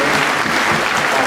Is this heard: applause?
yes